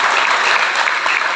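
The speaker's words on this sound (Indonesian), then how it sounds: "Tepuk tangan dulu untuk Tuhan." Church congregation clapping together in steady, dense applause during a GKII worship service in Long Lees, loud and sustained without a break.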